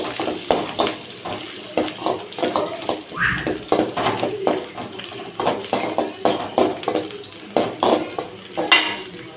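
Four torn dried chillies, seeds removed, sizzle in hot oil in a pan for a rice dish while a spoon scrapes and stirs in a steady, repeated rhythm, close and clear.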